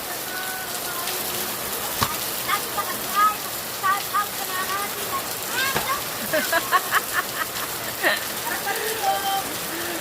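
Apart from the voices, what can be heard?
heavy rain falling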